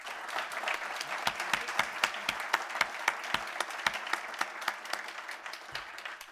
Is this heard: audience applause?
yes